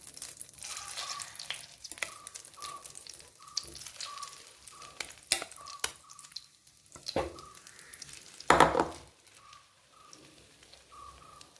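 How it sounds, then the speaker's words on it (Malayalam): Egg and bread mixture frying in melted butter in a pan, a soft crackling sizzle with scattered stir and scrape noises and one louder clatter, close but quiet, with a faint repeating tone in the background. "ഇനി നമ്മുടെ മിക്സ് നമ്മളിതിലേക്കും ചേർത്തിട്ട് ജസ്റ്റ് ഒന്ന് ഫ്രൈ ചെയ്തിട്ടെടുക്കാം"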